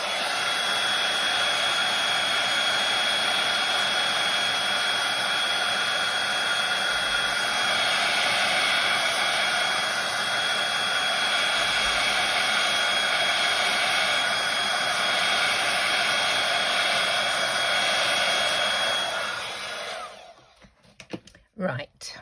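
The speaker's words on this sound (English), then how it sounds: "I'm going to dry this off first, because if I try and emboss on top of that, it'll stick everywhere." A hair dryer runs steadily at close range for about twenty seconds, drying wet craft paper ahead of embossing. The whir holds constant until the dryer shuts off near the end, and a voice is faintly audible under it.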